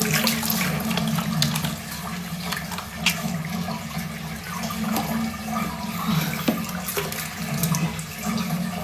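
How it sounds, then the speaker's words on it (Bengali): Tap water runs steadily into a sink while someone washes their face, with splashing and scooping bursts throughout and no speech. "দেখো আমি খুব সুন্দর করে মুখ ধুয়ে নিচ্ছি"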